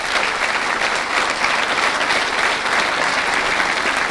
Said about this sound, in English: we should all give them a round of applause for how well they played in this final